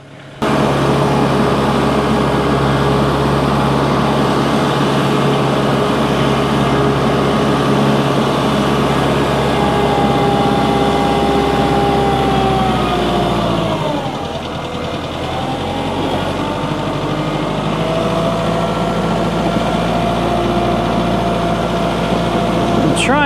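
A tractor engine idles steadily while warming up, a loud, close, continuous diesel drone with a brief dip in speed partway through before settling back to an even idle.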